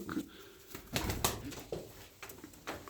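Pigeons in a loft, strong high-flying birds, give soft low coos in several short bursts, close by, with a few brief flutters and no talk.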